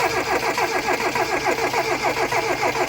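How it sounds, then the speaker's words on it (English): A Mazda MX-5 (Eunos Roadster) left abandoned in a garden for 13 years cranks over, the starter churning in a rapid, even, rhythmic whirr, loud and close, without catching. "I'm going to crank it over, Keith, okay?"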